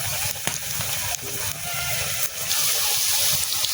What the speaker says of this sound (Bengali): কড়াইতে আমি তেল গরম হতে দিয়ে দিছি। এক এক করে দিয়ে দেবো